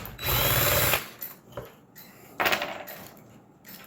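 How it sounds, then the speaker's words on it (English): An electric drill bores into soft metal on a Bulova Tempus Fugit bracket clock with Westminster chimes, in two loud close bursts of whine and grinding separated by quieter scraping and handling noises, with no talking. "I used my drill"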